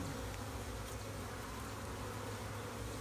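A swarm of honey bees buzzes as a dense, steady drone that fills the whole stretch without pause. It sounds close and even, with no voices over it.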